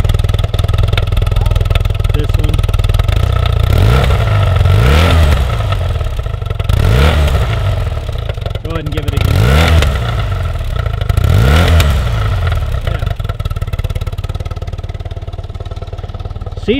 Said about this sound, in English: Exhaust is solid underneath. Exhaust is solid. You hear a little bit of popping.